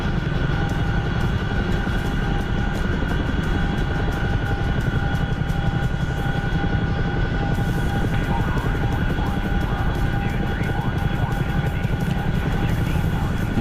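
An aircraft engine drones loud and steady during a landing approach over runway and taxiway lights, a continuous close rumble with a whine running through it.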